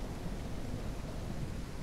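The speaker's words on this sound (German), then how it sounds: "Wie regnet denn das eigentlich schon wieder?" Rain and thunder in a ranch video game make a dense, broadband rumble and wash of falling rain, steady and fairly loud, with a low thunder roll underneath and no voices.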